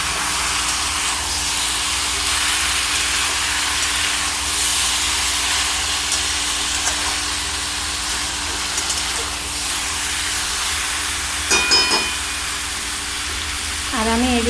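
Jackfruit sautéing with spices in a pan, a steady, loud sizzling hiss that runs throughout, with a few brief clinks near the end.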